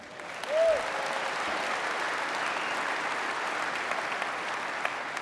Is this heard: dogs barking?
no